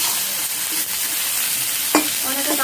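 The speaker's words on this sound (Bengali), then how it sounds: "কিন্তু আমি একটু হালকা করে ভেজে নেব।" Cauliflower florets frying lightly in a pan give a steady, fairly loud sizzle, with a few stirring knocks and a brief utensil clank near the end.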